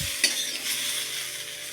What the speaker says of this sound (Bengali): আলু চাকাগুলো বড় বড় হয়েছে, তো ওই জন্য একটু মানে টাইম নিচ্ছে ভাজা হতে